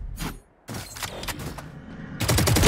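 Valorant gunfire: a quick automatic burst at the start, then scattered shots and a loud rapid spray at the end, set among game sound effects.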